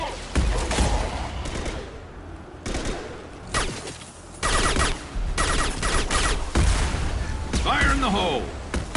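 Gunfire in the sci-fi shooter Mass Effect Legendary Edition: repeated loud bursts and single cracks of weapons fire, some sharp and close, with booming impacts and battle noise. Voices talk and shout over the fighting throughout.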